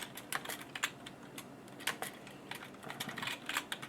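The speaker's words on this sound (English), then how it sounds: "I'm going to type it in." Quick, uneven keystrokes clatter on a computer keyboard, close and fairly quiet, with short bursts and brief pauses and no voices.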